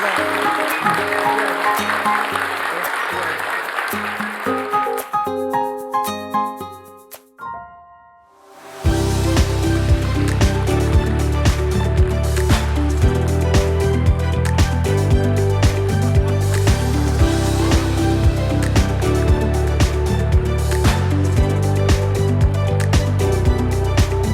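Large audience applauding at a public town-hall policy forum with the president in Wonju, Gangwon Province, broad sustained clapping that fades out, followed by loud music with a strong steady beat.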